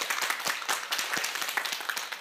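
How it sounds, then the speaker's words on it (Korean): Audience applauding a guest speaker at a talk on gifted children: a few seconds of uneven, moderately loud clapping with distinct individual hand claps standing out. "최용준 선생님께 다시 한번 큰 박수 부탁드리겠습니다"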